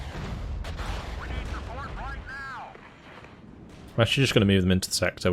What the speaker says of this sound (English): So we can avoid this artillery fire.